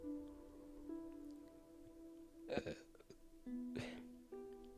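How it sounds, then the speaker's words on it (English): A person burps twice, two short, soft bursts a second apart, over quiet background music. "I just burped again."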